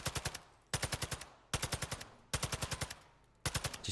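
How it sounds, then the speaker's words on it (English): Four bursts of automatic assault rifle fire in Call of Duty DMZ, about six or seven sharp shots each, close and loud with short pauses between bursts and no talk. "I decided to just keep popping away with my assault rifle"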